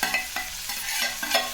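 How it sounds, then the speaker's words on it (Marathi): Finely chopped tomatoes sauté in hot oil with already-fried chillies for a bitter-gourd curry, a close, continuous sizzle broken by rhythmic spatula scrapes about every third of a second. "याला पण 2 ते 3 मिनिट परतून घ्यायचे आहे तेलामध्ये"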